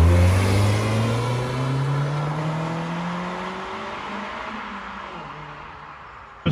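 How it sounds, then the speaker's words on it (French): A sporty car of nearly 200 hp and about one tonne revs outdoors, its engine louder than its exhaust, a sustained droning rev that slowly falls away, loud and steady throughout. "Le moteur est un peu plus audible que la ligne d'échappement."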